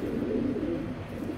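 Racing pigeons in a loft give a continuous low, throaty cooing, close and steady, with no voices.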